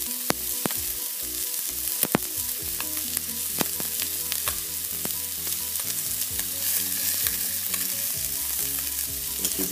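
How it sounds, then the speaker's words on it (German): A pork neck chop sears in a frying pan with a loud, steady sizzle and frequent crackling pops throughout, without any voices. "Man sollte es kurz eine Minute von jeder Seite anbraten und liegen lassen ruhig."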